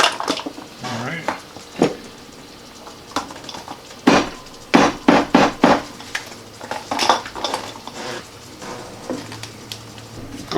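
A knife chops garlic on a cutting board in a home kitchen, a series of sharp, close wooden knocks and clinks that come in quick bursts and short flurries, with brief pauses between them.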